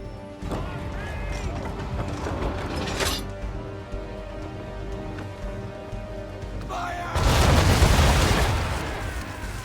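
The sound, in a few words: cannon fire igniting old powder barrels, Assassin's Creed 3 video game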